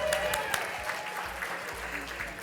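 An audience at a workplace equality awards event applauds the winners, a brief, lively burst of many hands clapping, with a voice faintly audible underneath.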